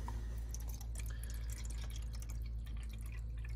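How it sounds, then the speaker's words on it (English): Water is poured steadily into the reservoir of a Keurig coffee maker, a continuous splashing trickle with a low filling rumble, close up and unbroken for a few seconds. "I'm just going to pour it up to the max fill line"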